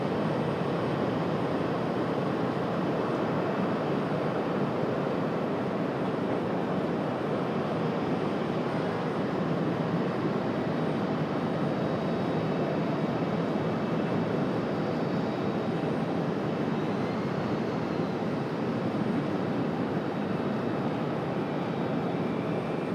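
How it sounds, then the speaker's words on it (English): An American Airlines Boeing 737-800 arriving from Dallas-Fort Worth lands at Raleigh-Durham International Airport, producing a loud, continuous broadband jet roar that holds steady for the whole stretch with no pauses. "So American 1888 from DFW cleared to land, 737-800."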